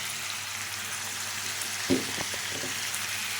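Curry with onions and turmeric stirred in a pan, a steady soft sizzle with a few brief scraping stirs near the middle, close and without talk.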